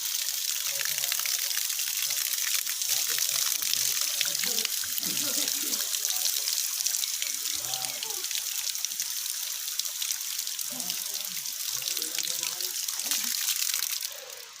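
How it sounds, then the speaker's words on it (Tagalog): Water trickling steadily outdoors at Tatlong Cruz in Paete, Laguna, a continuous hiss-like flow filling the whole stretch with people talking faintly underneath. "Ayun guys, yung tubig."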